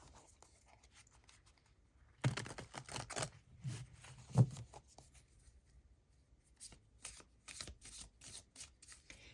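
A deck of Light Seers Tarot cards shuffled close by, soft riffling and rubbing bursts broken by quiet pauses, with a few sharper taps of cards hitting together.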